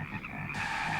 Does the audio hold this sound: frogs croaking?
yes